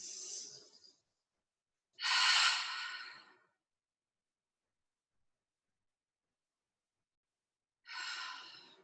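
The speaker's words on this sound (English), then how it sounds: "take just a couple deep inhales through the nose. Exhale, side out." Deep, slow breaths drawn in through the nose and released in long airy exhales come one at a time, close and soft, with several seconds of silence between them.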